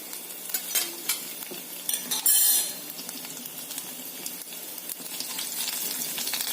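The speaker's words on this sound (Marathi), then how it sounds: "लसूण छान परतून घ्यायचं" Garlic fries in hot oil with mustard seeds and cumin in a kadai, a steady sizzle under repeated scrapes and clinks of a spoon stirring against the metal pan, heard up close without talking.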